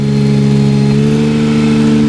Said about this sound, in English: Now, I'm going to raise the chipper dump box next.